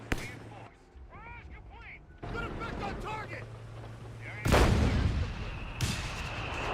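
Loud artillery bombardment in a World War II tactics video game on legendary difficulty, heavy blasts and rumbling impacts rising sharply near the end, layered over battlefield noise and someone talking.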